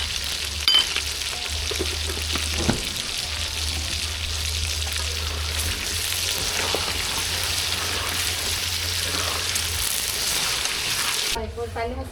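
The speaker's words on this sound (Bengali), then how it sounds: "এবার বিরিয়ানিতে দেওয়ার জন্য আলুগুলো ভেজে নেব" Potatoes frying in oil for biryani at an outdoor family picnic, a continuous dense sizzle close up running the whole time, with faint background voices and a low steady hum beneath.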